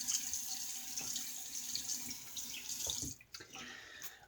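Tap water runs steadily into a sink for a razor rinse during a wet shave with a Gillette Psycho safety razor, a continuous splashing stream that cuts off near the end, leaving faint drips and clinks.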